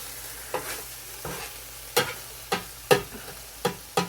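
Ground beef and onion in a sauce sizzle on a hot griddle as a spatula scrapes and stirs them in about seven sharp, uneven strokes over a low background fry.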